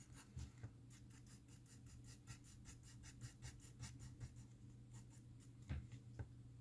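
Pencil pressed hard on paper while shading a Jagdterrier's dark fur, giving steady close scratchy strokes in a quick repeated rhythm throughout, with no talk.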